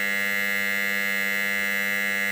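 An Ansul fire suppression system alarm sounds a steady, unbroken electronic tone, loud and even throughout with no voices.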